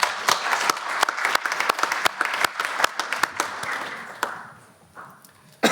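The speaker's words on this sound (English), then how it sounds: "let's give a big hand of applause to Eduardo and Irisbond" An audience at a start-up and social business forum applauds after a presentation, crisp individual claps blending into steady applause that thins out and fades near the end.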